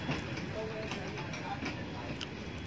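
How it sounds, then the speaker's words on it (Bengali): A toy train rolls past in Eco Park, Kolkata, giving a steady rumble with soft rhythmic clacks under busy crowd noise and nearby voices. "এই দেখো টয় ট্রেন যাচ্ছে"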